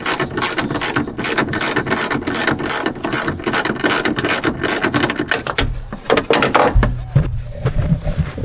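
Rapid, steady ratchet wrench clicking as a rear strut bolt is loosened on a Lexus ES300, loud and close, with the rhythm pausing and shifting partway through.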